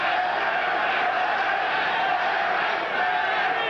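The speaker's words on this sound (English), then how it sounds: "the crowd now starts to rally to the support of Berbick" A boxing crowd at Caesars Palace in Las Vegas roars in support of Trevor Berbick during his heavyweight fight with Larry Holmes, a steady, dense wall of cheering that holds loud and unbroken throughout.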